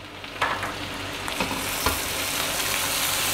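Roughly chopped large tomatoes fry in a pan for a beef kofta curry, giving a steady broadband sizzle with a few soft stirring clicks near the start, close and moderately loud, no talking.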